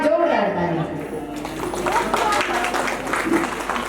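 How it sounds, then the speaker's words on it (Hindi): A crowd at a devotional Ramayan gathering breaks into hearty applause, a steady wash of clapping that follows a short spoken line and keeps going under some background chatter. "एक बार जोरदार ताली।"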